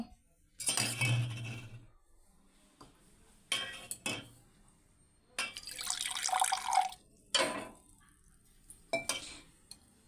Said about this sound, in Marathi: हे बघ एक ग्लास आणि हे थोडंसं पाणी मी घालत आहे